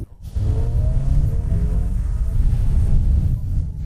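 A Honda Hornet 1000 motorcycle with an inline four-cylinder engine revs up and holds a steady, loud, close rumble for several seconds, with a rising pitch early on and no talk.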